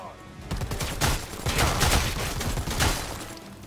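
Gunfire in Predator: Hunting Grounds, a dense run of rapid shots in bursts, loud and close across the whole stretch with faint talk underneath.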